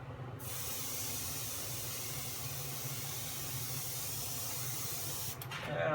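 A finish coat is sprayed onto a leather belt, producing a steady close hiss that runs almost unbroken before easing off at the end.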